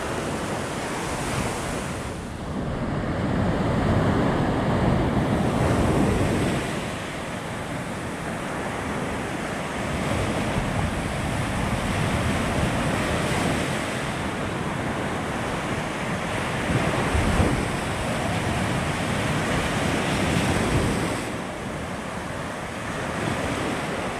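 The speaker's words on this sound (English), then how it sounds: "You just can't beat morning on the beach." Ocean surf rolls steadily onto a beach at Orange Beach, Alabama at sunrise, a loud continuous wash of breaking waves with some wind noise on the microphone and no voices.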